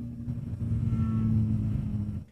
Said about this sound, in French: C'est une moto qui donne une vibration